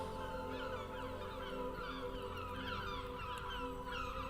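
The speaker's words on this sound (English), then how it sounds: "The piercing calls of seagulls swooping" Seagulls call in a sunny seaside soundscape with seabirds soaring overhead, their overlapping cries and squawks rising over a constant wash of background noise.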